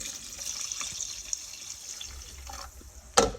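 Water is added for lemonade, a soft continuous trickle and splash running into a container, close and moderate, ending with a couple of sharper clinks or spatters.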